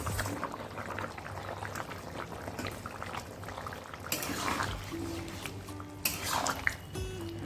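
Fried fish stirred into simmering curry gravy in a pan, a continuous bubbling boil with wet sloshing and a few louder scraping stirs toward the end.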